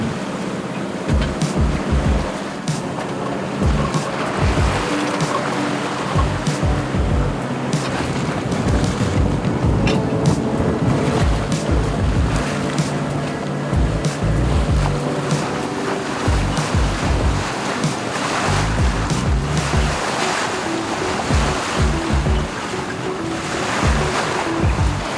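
A sailboat moves across open ocean, with waves and surf washing steadily beside the hull and wind buffeting the microphone throughout, loud and continuous.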